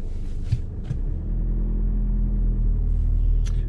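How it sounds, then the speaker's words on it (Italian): Inside a 2020 Volkswagen Passat diesel on the road, a low, steady engine and road rumble hums quietly, with a few soft clicks and knocks over it and no talking. "Nonostante un diesel, notiamo come l'auto è silenziosa"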